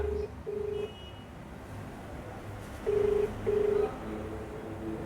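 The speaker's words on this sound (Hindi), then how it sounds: "घंटी जा रही लेकिन महोदय का फोन नहीं उठ रहा है" Ringback tones of an unanswered phone call to a police outpost in-charge in Ghughli, Maharajganj, two pairs of steady beeps separated by a pause over faint background hiss.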